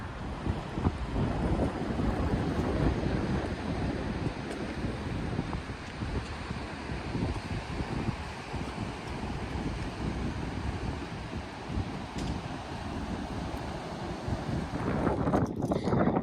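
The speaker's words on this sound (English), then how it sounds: "It's a really windy day out here in Almonte, but there's beautiful rushing water." Strong wind buffets the microphone beside the rushing Mississippi River in Almonte, Ontario, a steady broad roar of wind and flowing water that fills the whole stretch with no talking.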